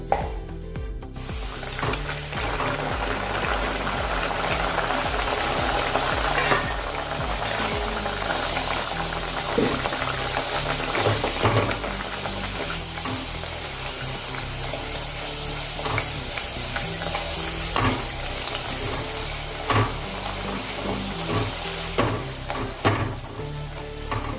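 Bedmi puris deep-frying in a pan of hot oil bubble and crackle loudly and steadily, with occasional clicks and taps of a utensil over the continuous sizzle.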